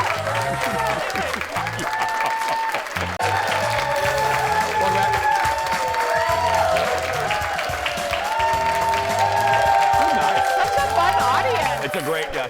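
A studio audience at a TV cooking show applauds steadily and loudly throughout, with voices talking over the clapping.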